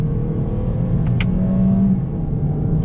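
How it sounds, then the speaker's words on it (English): Engine of a 2020 Toyota Corolla heard from inside the cabin through a real gear change out of first, a steady low drone that holds level, with a brief high tick near the middle and no talking. "listen to how this sounds when I shift."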